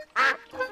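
A duck quacks once, loud and close, during a children's boat picnic scene, followed by a softer second call.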